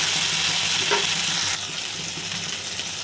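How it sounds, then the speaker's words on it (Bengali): Ground coriander and cumin frying in a pan for ghugni, a continuous close sizzle with light stirring, a brief scrape, then a slightly softer steady hiss, no talk. "এবার দিচ্ছি ধনে গুঁড়ো, জিরে গুঁড়ো দিয়ে ভালো করে কষিয়ে নেব।"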